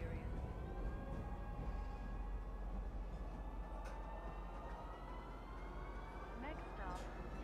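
A train in the video game Star Citizen rumbles along steadily with a low continuous roar, faint tonal whines and brief clanks riding on top, a voice talking over it.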